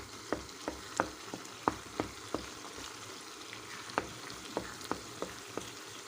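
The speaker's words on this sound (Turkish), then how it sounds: "Karıştıralım arkadaşlar. Salçamız kavrulsun." Tomato paste frying in a pan for lentil köfte, a soft background sizzle punctuated by a dozen or so sharp spoon taps and scrapes as it is stirred at an irregular pace.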